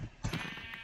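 A single Minecraft sheep gives one short, close bleat, heard alone with no talking.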